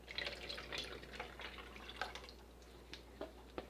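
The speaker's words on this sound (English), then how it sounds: "I think I'm going to actually pour this back into my lye container so I have enough space." Lye solution poured from a mixing container back into its storage container during cold process soap making, a close continuous trickle with small splashes and drips, with no voices.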